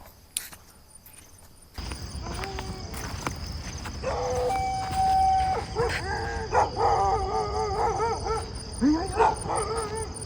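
In a park at night, a dog barks and gives drawn-out, howling calls at a moderate distance, with crickets chirping steadily underneath.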